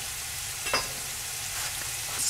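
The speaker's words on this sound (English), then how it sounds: "Just stir those about until they're tender." Sweet potato frying in a pan while being stirred, giving a steady soft sizzle with a couple of brief scraping bursts, close and moderately quiet throughout.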